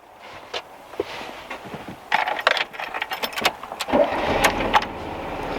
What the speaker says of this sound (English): We go back to the engine, start it up.